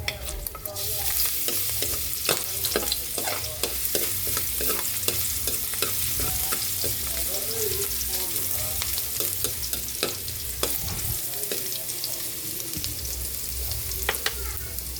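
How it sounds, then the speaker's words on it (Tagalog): Garlic sautés in a pan for pinakbet, a loud, steady sizzle broken by frequent scraping and clacking strokes of a stirring utensil, close up and without speech. "Magigisa na po tayo para sa ating pinakbit."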